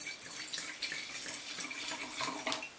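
White dry Spanish wine, a Garnacha Blanco, is poured into a glass, giving a short, soft, continuous splashing trickle close by with no talking.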